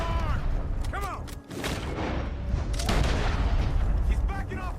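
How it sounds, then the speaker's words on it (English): Gunfire in the Red Dead Redemption 2 western shootout, several sharp bursts amid layered game action noise, with people shouting and talking over the exchange. "Gunshots are coming"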